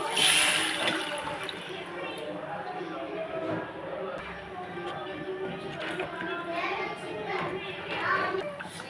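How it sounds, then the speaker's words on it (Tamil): Dissolved tamarind masala water is poured into a pot of dried-fish kulambu, a soft splashing trickle heard under voices talking nearby. "இப்போ நம்ம அந்த கரைச்சி வச்சுருக்க மசாலா தண்ணியை அப்படியே ஊற்றிடலாம்."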